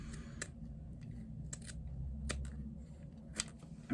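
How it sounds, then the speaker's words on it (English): Big scissors snip through foam in a few quick, crisp cuts spread unevenly over several seconds, close up over a low room hum. "I will often trim out mainly with my big scissors"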